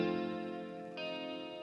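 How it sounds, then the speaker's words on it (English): Reverb-washed guitar sample from an R&B beat, a sustained chord ringing with a layered, slightly chorused tone that shifts to a brighter voicing near the end, steady and fairly quiet, with no talking. "the difference a little bit of reverb can make"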